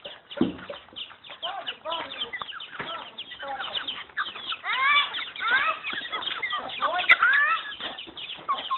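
A flock of farmyard chickens clucks busily and overlapping while being fed, dense bursts of close cackling that continue throughout, with a sharp knock near the start.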